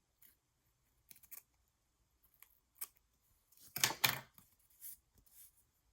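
Scissors cut paper for journal cards with several soft, sparse snips and one longer close cut in the middle, quiet and alone with no talking.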